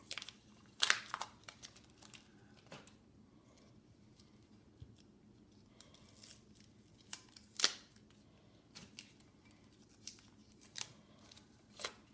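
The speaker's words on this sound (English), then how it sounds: "I'm going to go ahead and remove the tape." Tape being peeled off an AR-15 lower receiver, a few quiet crinkling rips and brief crisp snaps spaced apart, close up, against a faint low hum.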